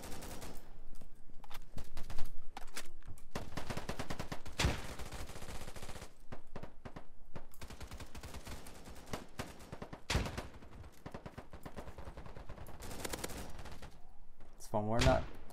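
Gunfire in the online shooter game Polygon, rapid volleys and repeated sharp shots throughout, fairly steady and dense with brief pauses, while a player talks now and then over the shooting.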